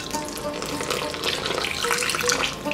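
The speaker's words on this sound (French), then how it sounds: "Ensuite on ajoute 200 ml d'eau, entre 200 et 250." Water poured into semolina to make dough for an Eid al-Fitr recipe, a steady close splashing pour running unbroken for a few seconds with no talk over it.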